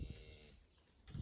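Calves in a corral during a heat wave, low bovine calls near the start and again at the end, with quieter shuffling between them and no talk.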